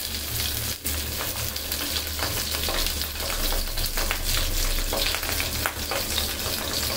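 Pabda fish dropped into hot oil, a dense, loud, steady sizzle and bubbling crackle that fills the whole stretch without pause, heard close with no voices.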